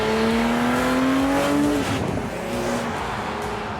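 BMW E36 M3 with a 3.2-litre inline-six revs and accelerates, a rising engine tone that shifts and drops, heard from inside over road noise.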